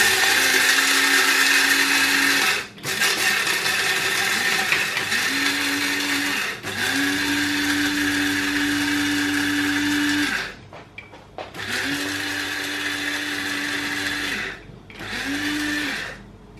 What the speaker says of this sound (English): put it in the grinder first